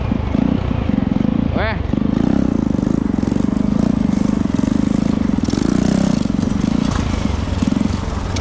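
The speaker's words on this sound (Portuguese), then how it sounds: "A moto desligando." A motorcycle engine runs loud and steady at close range on a farm during silage work, with people talking over it.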